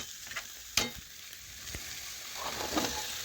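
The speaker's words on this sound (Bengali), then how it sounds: "মশলা এখন আমি ভালোভাবে নাড়াচাড়া করে একটু কষিয়ে নেব" Spices fried and stirred for a broccoli curry, a soft steady sizzle with a few sharp utensil knocks against the pan, close with no talking.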